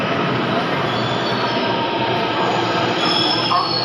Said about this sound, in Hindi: तो लक्ष्मी नगर की मेट्रो आ गई है वैशाली वाली